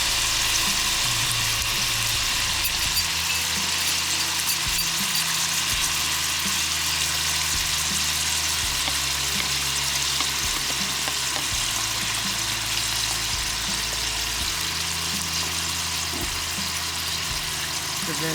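Barbecue sauce sizzling on chicken in a pan, a steady close frying hiss with no talk, over a low hum.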